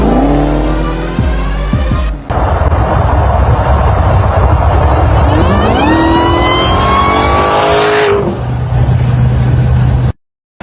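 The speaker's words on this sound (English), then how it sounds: "The supercharger is even louder than the engine. That exhaust note is sensational." A supercharged dragster-style car roars close and loud, revving hard and rising in pitch. The high supercharger whine rides over the exhaust note, then the engine drops to a low rumble before cutting off.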